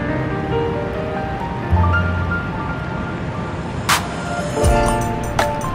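Water rushing in a river in Paris, Ontario, a steady broadband wash with brief louder surges and splashes, heard outdoors with no talking.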